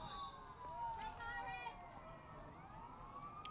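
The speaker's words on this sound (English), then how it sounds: "I hear police sirens going too" Police and fire truck sirens wail with rising and falling pitch, faint and distant, heard from a press box at a stadium during a high school soccer game over a low background murmur.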